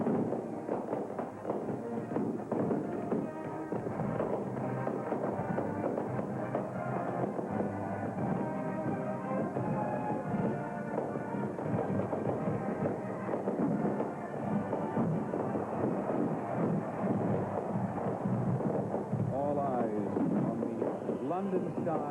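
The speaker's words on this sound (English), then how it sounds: "Don't want to interrupt the fireworks" Fireworks display over Hyde Park, London, on Guy Fawkes-style celebration night in 1981, a dense continuous barrage of bursts and crackles with crowd noise throughout, loud and sustained.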